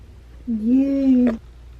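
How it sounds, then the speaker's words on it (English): A single drawn-out cat meow, close and fairly loud, rising and holding for under a second before ending abruptly, with quiet surroundings before and after. "You naughty kitty."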